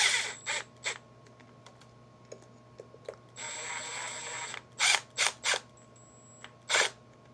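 A ratchet driver with a T15 Torx bit turns screws on a FLEX 24V polisher housing, giving a run of close, crisp mechanical clicks in short bursts and one longer buzzing ratchet pass, against a faint steady hum.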